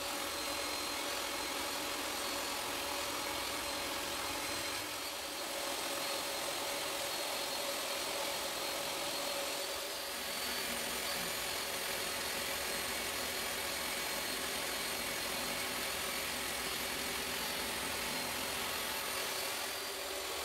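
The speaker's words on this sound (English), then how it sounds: "I could start ripping all the thin strips that I would need, and I'm cutting them to about 1/2 inch" Table saw ripping thin wooden strips about half an inch wide, a steady loud whirring drone that holds for the whole stretch with slight dips in level, no voices.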